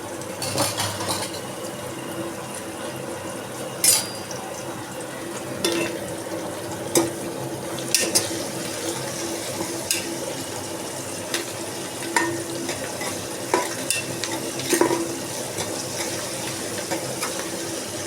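Food sizzles and fries steadily in a pan while a utensil stirs and scrapes with scattered clinks, close and continuous, no voices.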